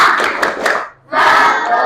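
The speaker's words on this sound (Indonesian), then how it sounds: "Tepuk semangat." A classroom of schoolchildren does a rhythmic group clap on cue, loud and close, with a burst of clapping and voices, a brief pause, then a second sustained burst of clapping.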